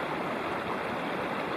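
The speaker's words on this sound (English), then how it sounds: "This is the outflow creek from the lake" Outflow creek from Maes Lake in the Wind River Mountains, a steady, full rushing flow of water heard up close with no other sounds.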